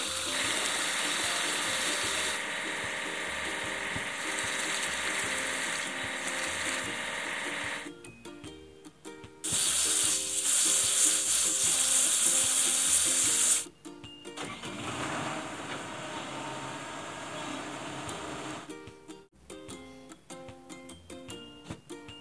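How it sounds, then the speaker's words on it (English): A cartoon digging machine at work, a steady mechanical clatter of ratcheting gears that drops out and restarts in sections, loud and alone without talk. "Digging machine."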